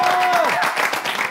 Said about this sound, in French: On applaudit nos deux artistes.